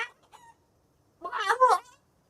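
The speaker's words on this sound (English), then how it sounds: "Shut up, chickens." Chickens in the video game Project Zomboid clucking, with a couple of short faint clucks followed by a louder, longer squawking burst, close and unaccompanied by talk.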